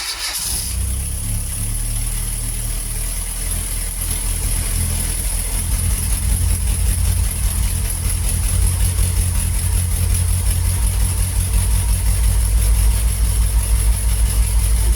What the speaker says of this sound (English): Turn it over 2 or 3 turns, then hit the spark.